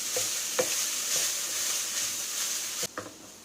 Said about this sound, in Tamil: சாதம் போட்டதுக்கப்புறம் அடுப்பை வந்து கொஞ்சம் மீடியம் ஃப்ளேமுக்கு மாற்றிட்டு லைட்டாக அந்த மாதிரி கிளறி விட்டுக்கலாம்.